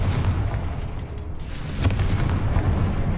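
A fiery Confringo spell blast from the Hogwarts Legacy game, booming loudly and continuously with a sharper burst midway, heard alone without talk.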